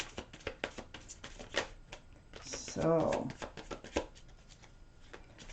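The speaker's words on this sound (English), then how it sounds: "let's get your cards shuffled in here" Tarot cards being shuffled in rapid riffling bursts, with a brief spoken word and soft handling noises around them.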